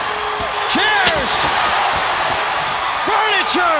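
Steel chairs slam during a wrestling brawl at a WCW Monday Nitro arena show, sharp impacts landing over a roaring, cheering crowd while a commentator shouts excitedly.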